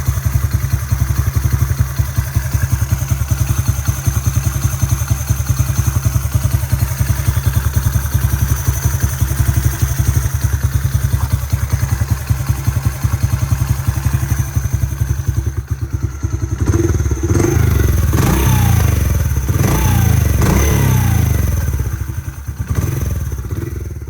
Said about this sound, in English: Engine's still quiet. Idling nice, no vibrations.